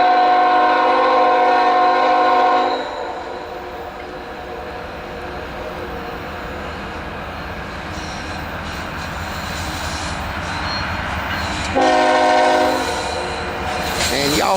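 A Norfolk Southern NS 165 manifest freight approaches the Hurt connector, its horn blasting loud and sustained at the start and again briefly near the end, with rumbling wheels and engine noise building steadily between.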